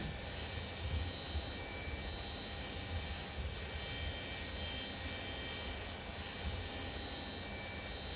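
Simulated Boeing 727-200 freighter taxiing in FlightSim Studio, with a steady, faint jet engine drone and a low rumble that stays even throughout, no voices.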